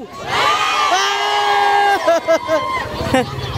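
Rally crowd from Navotas shouting and cheering loudly, a dense roar of voices with whoops and rising yells throughout, briefly dipping and surging near the end.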